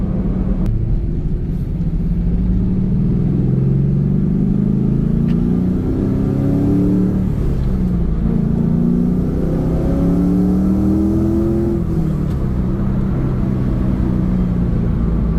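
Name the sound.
V8 sports car engine revving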